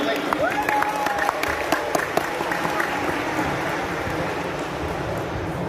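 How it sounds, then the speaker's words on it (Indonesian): A crowd at an Al-Zaytun gathering applauding: dense, sustained clapping filling the space throughout, with voices faintly audible in the mix. "Tepuk tangan"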